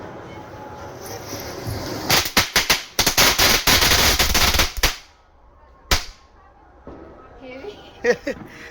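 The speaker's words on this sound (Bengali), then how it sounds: "এবার কি চালাবি চটপটি" A rapid string of small chotpoti firecrackers bursting close by, a dense crackling volley of sharp pops lasting a few seconds, then a few scattered isolated bangs and faint voices afterward.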